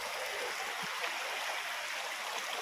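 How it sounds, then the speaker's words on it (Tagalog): A river flowing outdoors, a steady broad rushing wash of water at an even level throughout, with no voices. "Sarap pakinggan yung sounds ng ilog pala"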